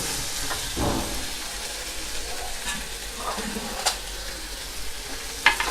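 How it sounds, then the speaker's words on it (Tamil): A spoon stirs sprouted green gram with onions in a hot pan, giving a steady sizzle with a few scraping strokes and soft clinks against the pan. "நம்ம வடிகட்டி வச்சுருக்கிற முளைக்கட்டிய பச்சை பயிரை சேர்த்துக்கலாம். 2 கிளறின பிறகு அடுப்பை நிறுத்திடலாம்."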